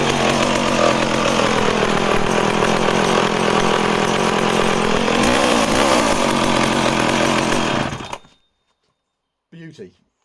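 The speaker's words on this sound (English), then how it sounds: "It's actually just a stunning running engine." A vintage chainsaw engine runs loud and close at a steady idle, briefly revving mid-way before cutting off, followed by a short faint knock in the silence.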